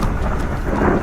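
A thunderstorm with strong winds and heavy rain roars loudly and steadily, a deep rumbling wash with no pauses, used as a horror story sound effect.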